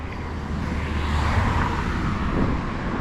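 Steady rumble of road traffic with cars passing continuously nearby, a broad constant roar that swells slightly in the middle.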